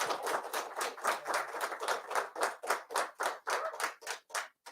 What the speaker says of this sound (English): So can we give them another applause?